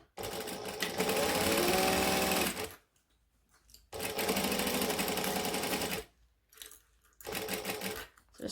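A sewing machine stitches a crossbody bag panel in three loud, steady bursts separated by short pauses, its rapid mechanical whirr up close.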